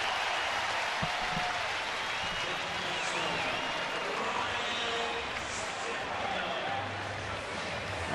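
A baseball crowd gives a standing ovation as a player returns to the dugout, a steady wash of applause and cheering filling the ballpark beneath a commentator's voice.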